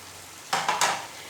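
Pieces of steamed egg are stirred into dhaba-style potato bhujia in a pan, giving a brief burst of three quick scraping, sizzling strokes after a quiet start.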